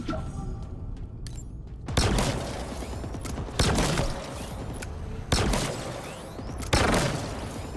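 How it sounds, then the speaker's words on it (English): In Halo Infinite combat, four heavy blasts from a rocket launcher and shock rifle land at roughly even intervals, each a loud booming impact over a constant rumble of battle noise. "So 2 rocket launcher hits and 4 shots with the shock, and still has a shield."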